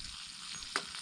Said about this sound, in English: look at the sear on that steak